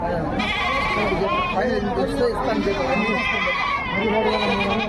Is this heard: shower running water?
no